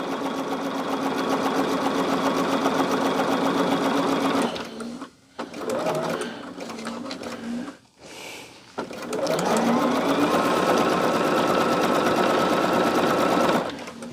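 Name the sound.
sewing machine sewing a tacking strip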